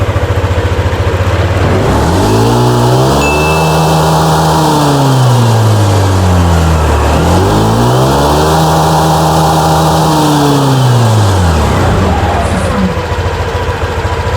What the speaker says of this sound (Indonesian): pernah nggak kalian habis servis motor kalian di blayer gas mentok sampai bikin kuping berbeken